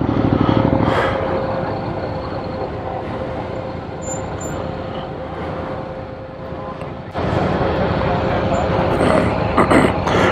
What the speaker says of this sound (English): Car coming around there, boys, be careful.